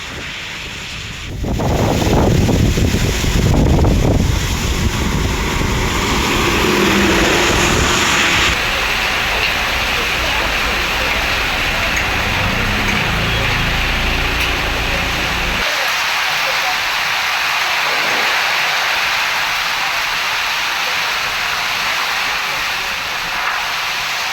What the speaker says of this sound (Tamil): பெரம்பலூரில் சுமார் இரண்டு மணி நேரத்திற்கு மேலாக இடியுடன் கூடிய கனமழை வெளுத்து வாங்கியது